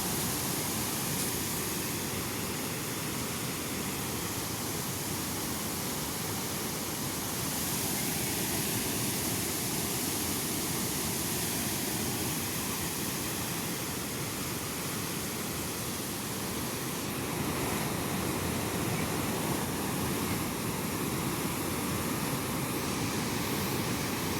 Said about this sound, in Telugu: చూడండి ఫ్రెండ్స్, ఇక్కడ వాటర్ ఎంత స్పీడ్గా వస్తున్నాయి.